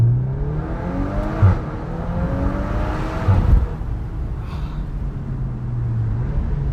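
A 2024 VW Golf 8 R engine coming off throttle, its tone falling and settling into a low steady drone with a couple of brief bumps, heard from inside the car with no talk.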